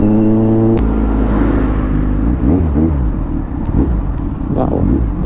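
A Kawasaki Z900 SE motorcycle at a rev-bombing event in Quibaol, Lingayen, Pangasinan: a loud close engine with a steady droning note that breaks into several quick rising revs and rumbling pops.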